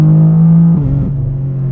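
A 2024 BMW G87 M2 drag build with a wide-open exhaust drones steadily at close range, its tone briefly wavering and dipping midway as it accelerates, with no talk.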